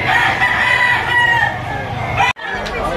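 Roosters and chickens at a poultry auction in Lipa crow and cluck loudly and close by. Several birds overlap against busy crowd noise, and one crow cuts off sharply near the end.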